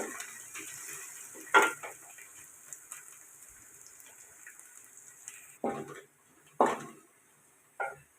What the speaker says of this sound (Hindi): प्याज हमारा भून गया।